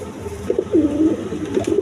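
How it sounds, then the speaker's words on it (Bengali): Pair of king pigeons at a breeding loft cooing in low, throaty bursts, several soft rolling coos close by against a steady background hum. "এইখানে এক পেয়ার কবুতর আছে দেখছেন"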